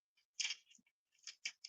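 Scissors snipping through plastic sheet, a few short crisp cuts with sharp, bright snaps separated by brief pauses, quiet and close.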